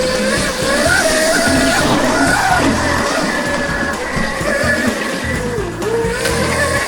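Electric mini dirt bike with a custom high-power battery ridden fast, a loud continuous whine rising and falling with speed under heavy wind and tire noise, no talking.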